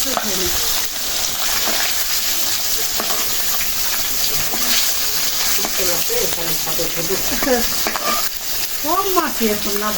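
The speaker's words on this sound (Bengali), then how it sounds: "মাছ ভাজা হয়ে গেল" Fish fries in hot oil with a loud, close sizzle and occasional stirring. Voices talk over it, growing more noticeable toward the end.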